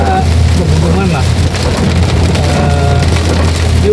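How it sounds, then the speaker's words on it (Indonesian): Heavy rain pours steadily on a vehicle along a forested mountain road between Radu Dongkal and Purbalingga, a loud, dense hiss with a low engine drone underneath and no talking. "Ini hujan deras tuh, hujan sepanjang jalan ini."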